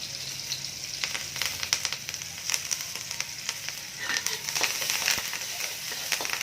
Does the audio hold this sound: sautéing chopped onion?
yes